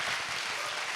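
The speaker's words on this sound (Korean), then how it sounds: "우리 축복과 격려의 박수를 드렸으면 좋겠습니다" A church congregation applauds during a special evening service, a steady wash of many hands clapping throughout.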